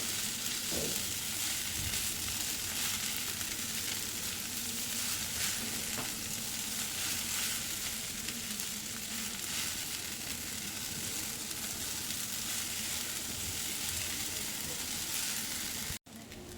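Sabudana khichdi sizzles and fries in a pan while a spoon stirs and mixes it, giving a constant loud crackle with occasional scrape strokes. The sound cuts off abruptly near the end.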